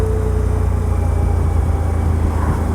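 Suzuki V-Strom 1000 motorcycle engine held at 3500 RPM in fourth gear, a steady low droning rumble with constant wind-like roar throughout, loud and close with no speech.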